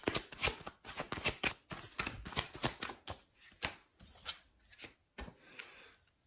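Tarot cards shuffled and drawn by hand, a quick run of crisp riffling and flicking bursts in close, quiet succession with short pauses between them.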